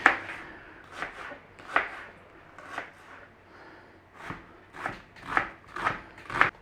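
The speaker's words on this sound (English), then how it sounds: "We've got an onion, which we are going to fine dice," A knife fine dicing an onion on a board, about a dozen crisp, close chops in an uneven rhythm with short pauses, and nothing else in the background.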